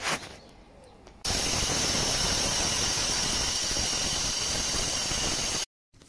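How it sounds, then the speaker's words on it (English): Angle grinder cutting into oak for a carport, a loud continuous high whining hiss that starts abruptly after a quieter moment, runs steadily for several seconds, then cuts off suddenly. "So we'll cut it with grinder on this mark, then we'll chisel it back to this mark"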